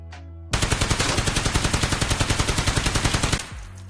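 In Escape From Tarkov, an MK16 rifle fires one sustained burst of about thirty rapid, evenly spaced shots, loud and close, then cuts off, leaving a brief trailing echo.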